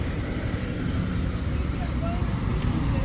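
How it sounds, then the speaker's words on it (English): Tuk-tuks and other street traffic on a main road outside a Bangkok hotel give a dense, continuous engine roar and road rumble, steady and fairly loud throughout. "Tuk-tuks right out here."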